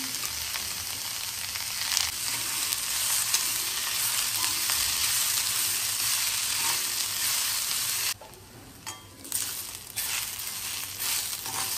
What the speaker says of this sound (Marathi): थोडं तेल ऍड करूया कांदा भाजण्यासाठी।